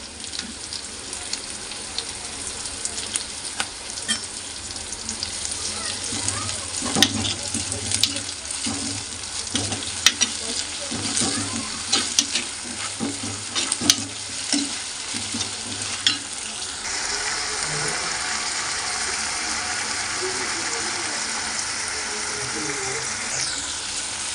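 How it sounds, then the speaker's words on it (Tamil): Ginger garlic paste frying with onions in a pan for a Kerala Palakkad-style white pumpkin chicken curry: loud continuous sizzling with stirring scrapes and clinks, followed near the end by a steadier rushing hiss, with no talk. "இப்போ நம்ம இது கூட இஞ்சி பூண்டு பேஸ்ட்டு சேர்த்துக்கலாம்"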